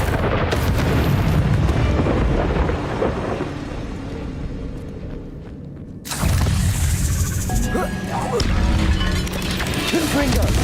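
Confringo explosion spells go off in Hogwarts Legacy amid fighting among dragon debris, heavy booming blasts and crashing rumble, a lull, then a sudden loud burst followed by more cracking impacts and clatter.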